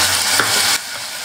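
Green peas sautéing with browned fried onions in a pan for coriander pulao, a steady loud sizzle that cuts out abruptly about three-quarters through, leaving quiet.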